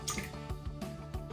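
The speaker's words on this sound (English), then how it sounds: "I'm going to put in my eggs" Eggs slide wetly into a bowl for a caramel flan, giving a few soft plopping drips and squishes close up, quiet and without talk.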